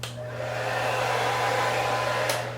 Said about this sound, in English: I'm gonna take my blow dryer on a low setting